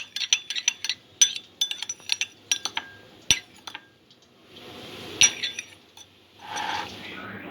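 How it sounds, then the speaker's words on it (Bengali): A spoon mixing vinegar and soy sauce in a small dish, with quick bright clinks of metal on the bowl in an irregular run, then softer scraping swirls, close and fairly quiet. "সব কিছু মিক্স করে নেব।"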